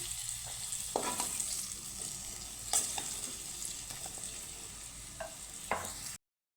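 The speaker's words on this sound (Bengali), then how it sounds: "এইভাবে আগের থেকে একটু আলু পটলগুলো ভেজে নিলে তরকারির স্বাদটা একটু বেড়ে যায়" Potatoes and pointed gourd fry in oil in a pan with a continuous close sizzle, punctuated by several sharp stirring knocks and scrapes, before the sound cuts to silence at the end.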